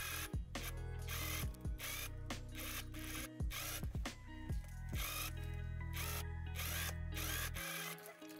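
A sewing machine top stitches along the edge and upper waistband of a denim skirt, its steady mechanical whir running loud and close for several seconds with brief pauses and restarts.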